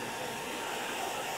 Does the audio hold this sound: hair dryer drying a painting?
yes